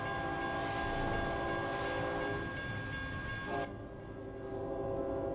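Train in American Truck Simulator rumbling past loud and close, its horn sustained in steady tones over the rolling rail noise, which carries on after the horn stops.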